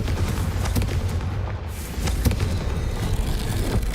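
A Confringo blasting spell explodes in Hogwarts Legacy with a heavy, rumbling boom, followed by sustained loud crackling and debris noise that dips briefly and then swells again.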